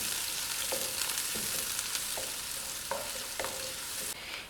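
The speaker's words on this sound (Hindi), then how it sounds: "प्याज को हमने यहाँ पर गोल्डन ब्राउन कर लेना है।" Chopped onion fries in a few spoons of oil, browning for vegetable macaroni: a dense, loud, steady sizzle with a handful of spaced stirring scrapes, and no one speaking.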